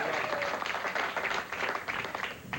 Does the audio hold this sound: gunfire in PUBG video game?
no